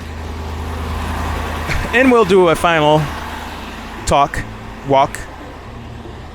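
Ford F150 PowerBoost truck engine idling, a low steady rumble running continuously while someone talks intermittently over it.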